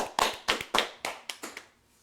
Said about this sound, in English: Everybody, let's clap in Ian, and welcome back Ian.